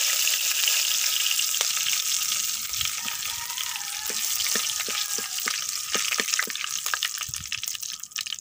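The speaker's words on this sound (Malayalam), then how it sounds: "കുറച്ച് കടുക് ഇട്ട് കൊടുക്കാം. കുറച്ച് വേപ്പിലോട്ട് കൊടുക്കാം." Mustard seeds and curry leaves spluttering in hot oil: a continuous close hiss, with a quickening run of sharp pops and crackles in the second half.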